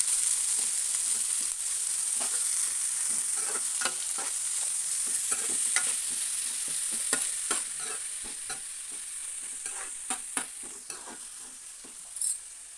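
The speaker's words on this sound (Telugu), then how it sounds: "అలాగే ఉల్లిగడ్డ మంచిగా బోలేదాకా మంచిగా కలుపుకోవాలండి" Onions fry in a pan for cauliflower chicken curry while a spoon stirs them, giving repeated scraping strokes over a constant hiss of frying, close and unaccompanied by speech.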